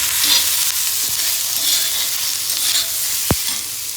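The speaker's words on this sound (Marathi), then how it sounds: "थोडंसं याच्यात तेल घालते. कांदा चांगला नरम होतो मग" Onion frying in oil in a pan for a Konkani clam curry masala, a steady close sizzle with soft scraping stirs throughout and one sharp clink near the end.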